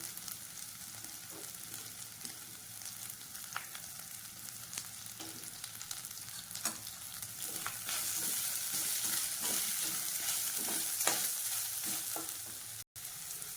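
Thinly sliced cabbage sizzles loudly in a hot pan while a spatula scrapes and tosses it in repeated strokes, growing louder midway.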